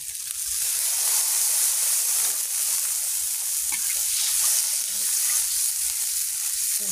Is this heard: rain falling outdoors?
no